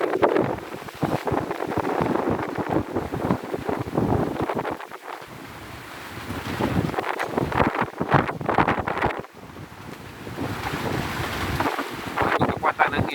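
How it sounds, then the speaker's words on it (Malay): Strong 20-knot wind roars over a sailing ship under sail with no engine running, waves surging and splashing around the hull in loud, gusty bursts across the whole stretch. "Itu kekuatan angin dia 20 knot."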